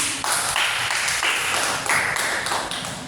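A small group claps hands during a group guidance session, a lively, close run of overlapping claps that comes in short uneven bursts for about three seconds, with no talking over it.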